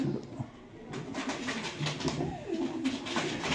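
A pigeon coos softly in a loft setting, low throaty repeated calls at moderate distance over faint background noise.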